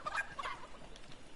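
A fowl-like bird in a video game gives a short burst of clucking and gobbling calls, moderately close and fairly faint, over a low background hum.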